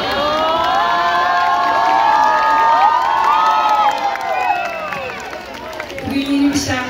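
Concert audience at an open-air kilim, culture and arts festival cheering loudly, with high whoops, shouts and children's voices over a busy crowd, swelling then easing before a fresh burst near the end.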